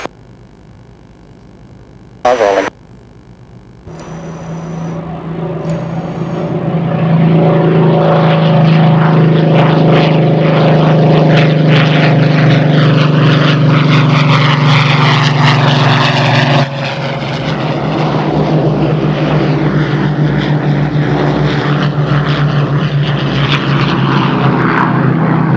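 Aircraft engine roaring up during a fighter's takeoff roll, starting quiet with a brief high burst, then swelling to a loud, sustained droning propeller-engine roar that holds steady, dips briefly and continues near and powerful.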